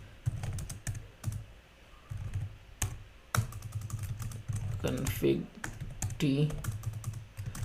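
Computer keyboard typing while configuring a Cisco ASA firewall, rapid irregular clatter of keys in bursts with brief pauses, close and clear, with someone speaking intermittently over it.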